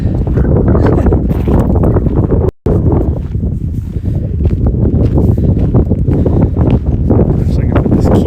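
Strong wind on a mountain top at the Continental Divide roars and buffets the microphone almost continuously, a heavy low rumble with a brief dropout early on.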